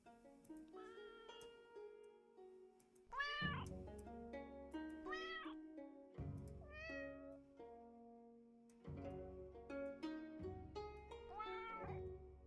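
Many video game cats meow one after another, clear and close, with overlapping pitched calls rising and falling in a busy, playful cluster and no talking.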